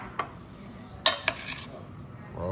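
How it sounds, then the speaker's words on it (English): Pasta being stirred in a pan with a little pasta water: a few sharp utensil clinks against the pan amid a low simmering background, fairly close and without talk. "Okay, stir it around."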